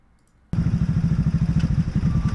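After a brief quiet start, a motorcycle engine kicks in loud and close, its rapid pulsing rumble steady as the bike rides along.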